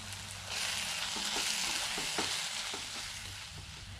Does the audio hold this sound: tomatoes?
yes